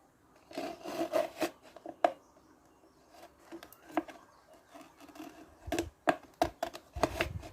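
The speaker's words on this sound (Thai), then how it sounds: "เสร็จแล้วเราก็เอาไปตัดเลยนะครับ" Scissors snip through a plastic cup to trim it to size, giving a close series of crisp, irregular cuts and rubbing scrapes in quick bursts with brief pauses between.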